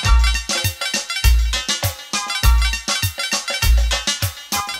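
A dancehall reggae track with a volume-knob rhythm effect, its loud booming bass and full mix pumping in rapid chopped surges that form a repeating polyrhythmic pattern, with no talking.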